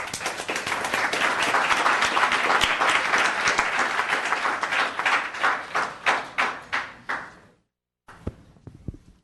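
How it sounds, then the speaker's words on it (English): Applause from an audience at a town council meeting, full and sustained at first, then thinning into a few distinct final claps, a brief gap and some scattered taps. "And another round of applause."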